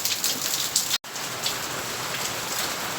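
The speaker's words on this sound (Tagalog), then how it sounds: "lakas pa rin ang ulan" Heavy rain pours steadily, a dense continuous hiss of drops hammering a surface, with a brief dropout in the middle.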